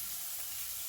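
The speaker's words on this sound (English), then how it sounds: "olive oil in the pan and then the onion. You just want to cook it gently," Onion cooks gently in olive oil in a cast iron pan, giving a soft, steady sizzle and hiss for a brief moment, quiet and without talk.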